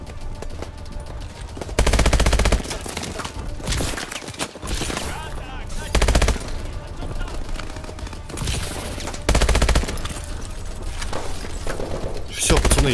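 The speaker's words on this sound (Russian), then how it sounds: "О, там пулемет херачит, ребята." Machine gun fire in the video game Call of Duty: Advanced Warfare, heavy bursts of rapid automatic shots with booming impacts recurring every couple of seconds over a constant din of battle.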